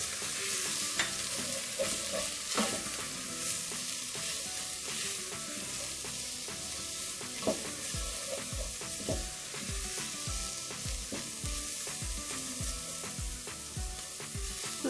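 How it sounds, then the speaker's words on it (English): Red pepper, coriander powder and salt fry in hot oil for a spinach and ground beef dish, sizzling steadily while a utensil scrapes and stirs the pan in repeated rhythmic strokes, close up. "we'll fry for a few minutes, saute it for a few minutes"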